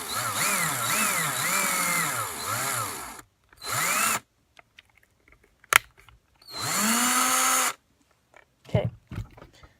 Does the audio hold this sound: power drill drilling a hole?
yes